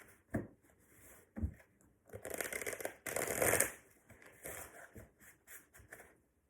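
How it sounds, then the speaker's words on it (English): A deck of tarot cards is shuffled close by in quiet, uneven bursts: soft riffling and flicks build into two louder rustling runs, then taper off into light taps. There is no talking. "One more shuffle."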